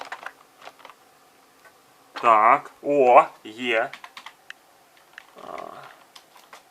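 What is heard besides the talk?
computer keyboard keys being pressed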